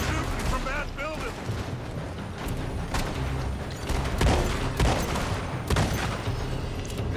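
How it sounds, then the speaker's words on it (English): Gunfire in the Red Dead Redemption 2 video game, with repeated sharp shots and bursts from a building and a shotgun in the mix, steady and loud throughout, layered over busy game sound. "They're shooting from that building."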